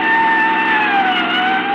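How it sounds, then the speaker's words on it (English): A police car in a radio drama comes speeding toward the listeners, its wailing siren loud and close as the pitch slowly sinks, with an engine roar underneath and no talk over it. "It's a police car."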